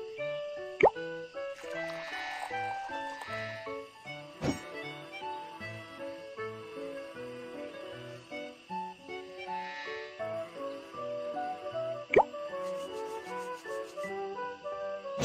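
Cartoon cream poured into a pot of soup: short plopping, gurgling splashes that come and go over a bright, steady music bed, with no voices.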